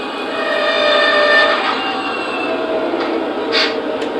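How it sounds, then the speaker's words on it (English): Squealing brakes of an SD80MAC locomotive, a shrill sustained metallic whine with shifting tones over a low rumble, close and continuous with brief sharper squeals near the end. "get the engine running a little faster so you can hear the squealing brakes."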